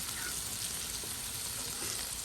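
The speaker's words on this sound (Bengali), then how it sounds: "এখানে দেখুন ইলিশের মাছটাও ভাজি হচ্ছে।" Hilsa fish and its roe frying in a pan over a low flame, giving a steady, dense sizzle that holds close and even throughout with no pauses.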